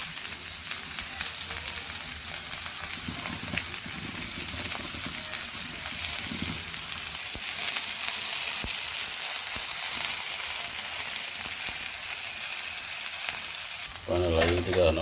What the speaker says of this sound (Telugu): ఇలా తరిగేసి బాగా ఫ్రై చేసుకోవాలి.